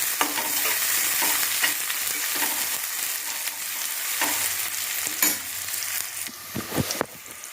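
Onions sautéing in a pan for Kongu-style horse gram rice, a steady close sizzle with repeated stirring scrapes and clinks throughout, no voices.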